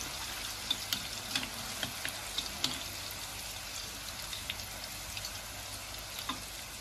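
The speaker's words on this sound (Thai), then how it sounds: "ทอดให้พอเหลืองๆปานกลาง" Coiled sausages frying in hot oil, a steady soft sizzle and bubbling with occasional small pops and crackles, fairly quiet with no talking.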